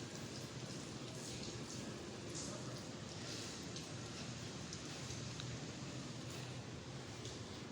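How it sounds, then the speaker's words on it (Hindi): Heavy, steady monsoon rain pours down outside a home in the evening, a dense continuous hiss and patter at even loudness throughout, with no voices. "अभी बारिश जो है ना वो रुकने का नाम ही नहीं ले रही"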